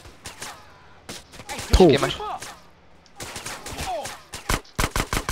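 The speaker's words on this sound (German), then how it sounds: "Auf uns wird schon fett geschossen." Gunfire aimed at the player in GTA San Andreas: rapid bursts of in-game shots, loud and near, crackling in clusters at the start and end, with a German-speaking voice talking over the middle.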